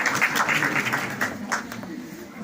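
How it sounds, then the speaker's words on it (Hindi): An audience at a Savitribai Phule birth anniversary honour ceremony in Gwalior applauds steadily for a few seconds, a dense, even patter of many hands clapping at moderate loudness. "एक बार जोरदार तालियां बनती हैं।"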